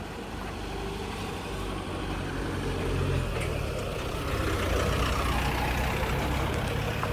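A vehicle comes up from behind on an outdoor road, its engine rumble swelling louder midway and staying heavy and close, with no talking.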